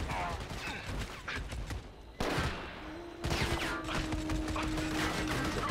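Gunfire crackles in Army of Two during a mission along China's Lijiang River, with bursts of rapid shots and mechanical clatter breaking off and resuming, and some talk over the top.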